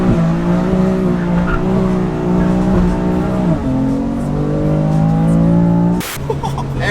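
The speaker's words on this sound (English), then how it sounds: "so you guys can really hear how sick this car actually sounds" A loud modified 550-horsepower BMW M3 engine revs hard and shifts pitch, tires squealing as it drifts, with a sharp bang near the end, close and continuous.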